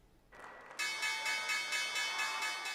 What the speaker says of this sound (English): The opening bell at the New York Stock Exchange.